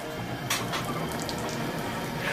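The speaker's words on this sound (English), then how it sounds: "You hear the milk like sizzling from it being so freaking hot?" Milk sizzling and hissing around a red-hot sword blade, a steady broadband fizz with brief louder crackles, fairly close and alone.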